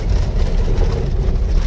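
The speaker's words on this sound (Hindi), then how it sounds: "इतनी आवाज़ मारती है ना गाड़ी" A truck rolls slowly downhill over a rough tiled road, its body giving a steady low rumble and rattle throughout, loud and close with no talk.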